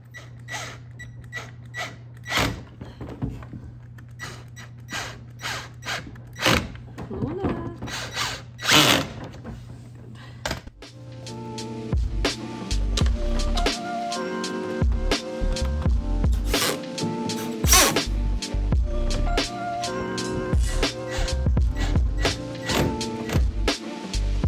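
A power drill drives screws to fasten a new base back onto an outdated piece of furniture being refinished, with short whirring bursts and creaks at first, then a longer, louder run of drilling with clunks.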